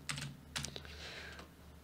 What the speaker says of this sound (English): And again, just typing after I hit record or after I click on it to fix it.